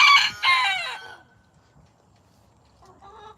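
A rooster crows in a chicken coop, a loud, close call that fades out within about a second, followed by quiet and a fainter, more distant crow from another bird near the end.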